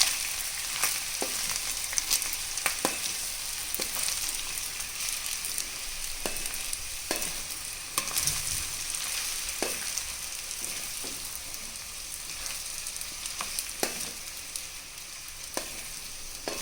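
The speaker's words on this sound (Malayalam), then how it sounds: "കുതിർത്ത് വെച്ചിരിക്കുന്ന ചവ്വരി ഇതിലേക്ക് ഇട്ട് കൊടുക്കാം. ഇതിലേക്കിട്ട് നന്നായി ഇളക്കി യോജിപ്പിക്കാം." Soaked sabudana tossed with peanut powder and salt in a hot pan, a steady soft sizzle running throughout with occasional sharp spoon taps and scrapes as it is stirred, close up.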